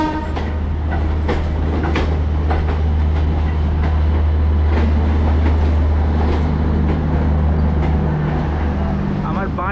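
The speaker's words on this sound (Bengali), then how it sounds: "এই হাওড়া বেলুড় মঠ লোকালে কিন্তু একদম প্রথমবার জার্নি হচ্ছে" A Howrah–Belur Math local passenger train runs with a heavy low rumble and steady clatter of wheels on rails, close and loud, with a voice talking over it.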